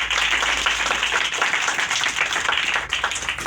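An audience at a church mission gathering claps and applauds loudly and steadily, a dense continuous patter of many hands with no speech over it.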